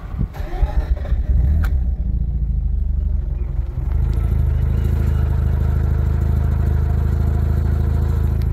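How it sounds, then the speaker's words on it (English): A Mazda RX8 engine rumbles loud and close, a few uneven revving pulses at first, then a steady deep drone from the exhaust with no voices. "even with the windows open you can just hear that exhaust"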